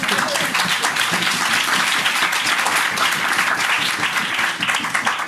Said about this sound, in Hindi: और बाइबल के लिए आप तालियां नहीं बजाएंगे?